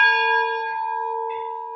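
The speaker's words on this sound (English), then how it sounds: "Ring the bell one time, not twice." A single stroke of a lighthouse bell on Lake Michigan rings out clear and steady, its pure tone sustaining and slowly fading with no other sound around it.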